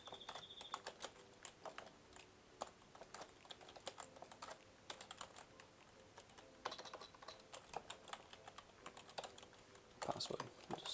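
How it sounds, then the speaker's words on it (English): Quiet keystrokes on a computer keyboard as a password is typed, a quick irregular run of soft clicks close by, with a few louder taps near the end. "just type in a password"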